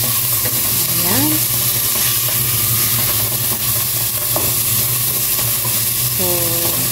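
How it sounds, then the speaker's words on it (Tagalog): Food sizzles loudly in a frying pan while it is stirred, with continuous frying hiss and scraping, and a few brief vocal sounds over it. "Haluin na naman tayo natin. Walang katapusang paghahalo."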